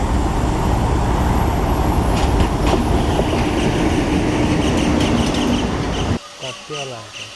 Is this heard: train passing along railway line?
yes